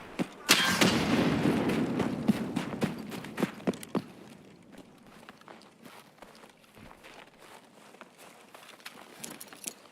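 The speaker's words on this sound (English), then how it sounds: "Enemy frag!" A frag grenade bursts in Escape From Tarkov: one loud, sharp blast up close, with a rumble that fades over a few seconds, followed by scattered footsteps and small clatters.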